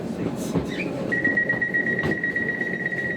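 A London Overground Lioness Line train between Euston and Watford Junction runs along the track with a low rumble and wheel clatter, and a thin steady high tone sounds from the running gear.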